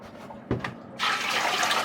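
Fresh water pouring into a big pot on a boat for steaming crabs, a steady broad gush of filling water starting after a brief clunk, close and loud.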